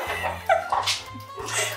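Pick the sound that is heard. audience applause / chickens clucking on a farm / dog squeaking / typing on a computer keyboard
dog squeaking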